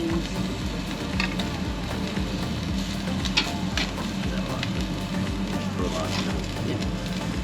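Omi beef and onions sizzle on a grill, a steady crackling hiss running throughout with dense low-frequency texture, close and continuous, with faint voices nearby.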